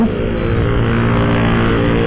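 Racing motorcycle exhaust fitted with an R9 muffler, revving loud and close with a dense, continuous roar that holds steady throughout.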